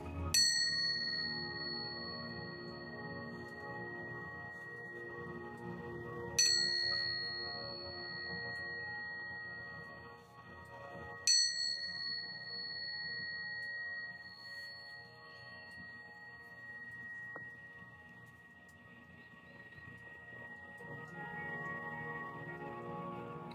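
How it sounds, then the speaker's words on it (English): A bell is struck three times, each strike ringing out clearly and resonating with a long, slowly fading tone over a steady low background drone. "That thing rings for a long ass time."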